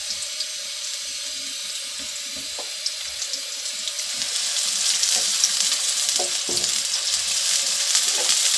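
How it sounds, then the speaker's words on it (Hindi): Onions frying in hot oil for a chicken and potato qorma, giving a steady close sizzle that grows louder and denser about halfway through, with a few soft clinks and stirring sounds underneath. "ऑयल गरम हो गया है, प्याज डालते हैं।"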